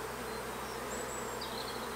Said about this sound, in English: They're lovely bees.